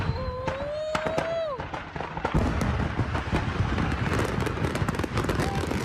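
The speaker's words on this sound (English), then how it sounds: "a long series of fireworks shooting into the air" A house explosion in Ontario, California sets off a long series of fireworks. Dense crackling bursts and sharp pops follow a whistling rise, loud and continuous with rumbling booms, recorded outdoors by a bystander.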